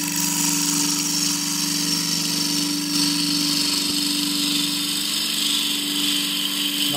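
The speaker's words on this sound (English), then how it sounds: "I'm going to rough this down using a 1/2-inch spindle gouge" Wood lathe spinning a cross-grain forest sheoak box blank while a 1/2-inch spindle gouge roughs down the outside: a steady, loud motor hum with a constant whining tone and a continuous hiss of cutting, unbroken for the whole stretch.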